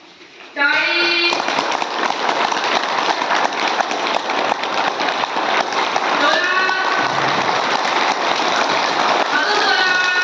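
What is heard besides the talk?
group clapping hands during yoga session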